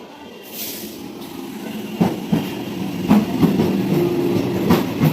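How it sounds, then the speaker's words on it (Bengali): Train pulling into a station, with rhythmic clickety-clack wheel thumps over rail joints and a steady rumble, close and fairly loud. "পৌঁছে গেছে ট্রেন"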